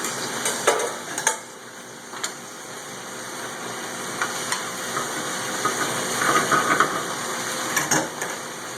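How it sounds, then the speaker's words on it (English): A big pan of spinach sizzles and pops as it is tossed and wilts down, a steady close hiss with occasional sharp crackles and soft stirring sounds throughout. "we're going to toss our spinach, starting to pop"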